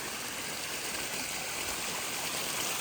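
Water runs steadily in a gator enclosure, a continuous soft rushing and splashing that stays at an even, fairly faint level with no pauses.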